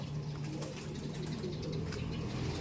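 A racing pigeon coos softly at close range, low repeated throaty notes over a faint steady background hum.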